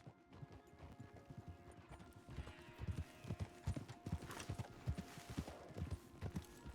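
Horses' hooves clip-clopping in Red Dead Redemption 2, a brisk irregular patter of hoofbeats on a path, quiet at first then growing steadier and louder, with faint ambient background.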